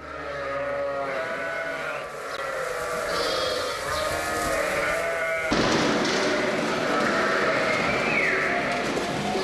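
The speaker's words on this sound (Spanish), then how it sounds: "sus ovejas de raza castellana anejas a la quesería" A flock of Castilian breed sheep bleats continuously at a cheese dairy, with overlapping calls near and far over a steady farmyard din and no talk.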